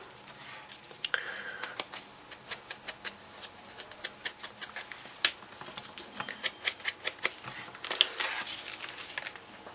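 A handheld paper punch cuts shapes from folded paper in a steady series of sharp crunching clicks, about two per second. The clicks are close and quiet, with a denser cluster near the end.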